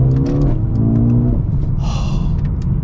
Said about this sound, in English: you do not expect to hear that kind of noise out of a 2-liter 4-cylinder